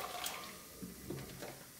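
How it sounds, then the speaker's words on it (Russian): Water pours and splashes steadily into a pot at close range, a soft continuous gush with faint clinks. "Воды наливаю побольше"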